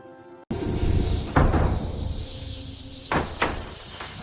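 Knocks on the door of a house on a bright day: a few separate dull thuds, close and moderately loud, with a pair of sharper raps near the end.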